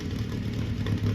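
A 1926 Rally Grand Sport Type S with fishtail exhaust running close by, a steady low throbbing engine note with a rough, burbling exhaust drone.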